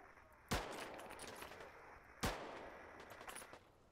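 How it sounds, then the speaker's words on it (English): Gunfire in the video game Deadside: two sharp, loud shots about two seconds apart, each trailing a long echoing tail, then fainter rapid crackles of more distant fire. "now we're getting shot at"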